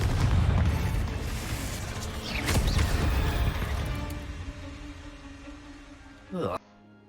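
A Confringo blasting spell explodes in a Harry Potter video game, a loud booming blast with crashing debris that rumbles and slowly fades, then cuts off abruptly after a brief sharp burst.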